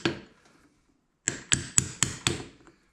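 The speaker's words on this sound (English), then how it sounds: "I'm using a brass hammer." A brass hammer taps a manual R154 transmission part on during a dog box conversion for a 1JZ MK3 Supra drift car: one sharp tap, then a pause, then five close, evenly spaced metallic knocks, loud and near.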